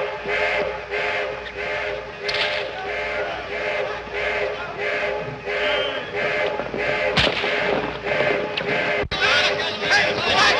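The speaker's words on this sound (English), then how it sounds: "What's that? Somebody else shooting?" Gunfire in a 1931 Hollywood western scene, several sharp shots and reports cutting through a busy old film soundtrack with shouting voices and a whistling tone.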